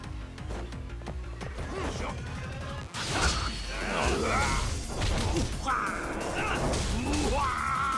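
Heat action attack in the action game Lost Judgment, with heavy impacts, crashes and whooshes from the brawl sounding over game music, with someone talking throughout.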